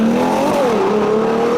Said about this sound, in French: Et le bruit du moteur, c'est une dinguerie